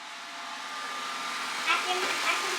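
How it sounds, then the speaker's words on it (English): A robot vacuum cleaner runs with a steady whirring hum in a home, then gives a few short scraping, rattling noises as if something is caught in it; no clear talking over it. "She's our robot vacuum fixer nowadays."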